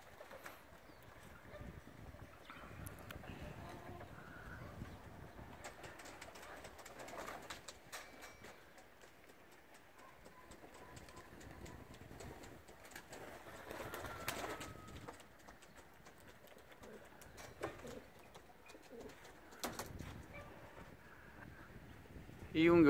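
Racing pigeons in their loft give soft, intermittent cooing and rustling. The sounds are faint and close, with occasional louder flutters and knocks, and quiet talk appears at times.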